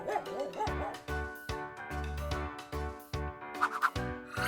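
A dog barks repeatedly in quick, close bursts, mixing sharp woofs with high whimpering yips, loud and heard alone.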